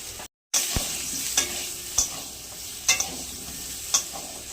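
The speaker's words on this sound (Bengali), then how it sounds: "লবণ হলুদ দিয়ে আলুটা ভেজে নেবো" Potatoes frying in oil with salt and turmeric for an egg rice dish: a bright steady sizzle close by, punctuated by about five distinct spatula knocks and scrapes against the pan, no voices.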